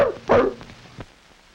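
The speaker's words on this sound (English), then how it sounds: "There's a real dog." A real dog in a 1949 educational film gives two quick, sharp barks close by, followed by a few fainter yips as the sound fades.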